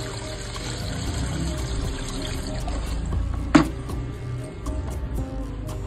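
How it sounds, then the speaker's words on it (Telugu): Water pours and trickles over a small clay Ganesh idol during a home immersion, a steady close splashing flow with one sharp clink partway through. "ఇంకా నేను నిలబెట్టి నిండు నీళ్ళు అయితే పోసేస్తున్నానండి"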